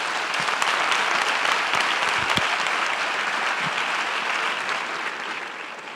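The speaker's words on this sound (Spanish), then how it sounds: "us demano un aplaudiment per l'inici de la seva presentació" An audience in a lecture hall applauds as educator Francesco Tonucci begins his talk, a full, continuous wash of clapping that stays loud and even throughout before easing slightly at the end.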